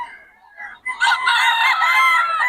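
A Kelso Golden Boy bloodline gamecock, a nationally banded stag from a breeding farm, crows loudly and close by in one long, sustained cock-a-doodle-doo after a short lead-in note.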